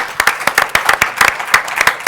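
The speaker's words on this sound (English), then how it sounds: "I'd like to offer a round of applause for our panelists" A conference audience gives a brief round of applause for a panel of speakers, with quick sharp claps pattering close by in a steady burst.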